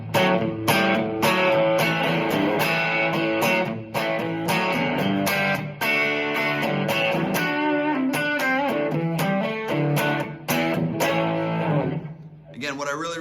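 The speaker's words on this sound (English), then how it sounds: "what I really like is the distortion sounds really good" Electric guitar on a distortion channel, set to a brown setting and switched through a Quilter Labs UFC201-6 six-position foot controller, plays loud, sustained driven chords and riffs before dropping away near the end.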